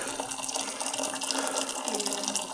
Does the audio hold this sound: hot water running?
yes